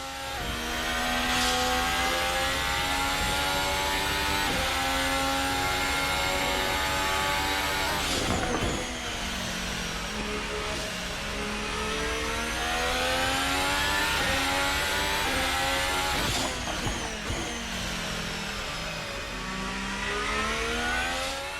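An F1 car engine from the F1 2020 racing game with a sound mod, heard on an installation lap: a loud, continuous high-pitched engine whine climbing through upshifts, with two sharp gear-change drops and no talk.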